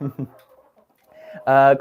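A chicken clucks close by: two short clucks, a pause with soft sounds, then a louder drawn-out squawk at the end.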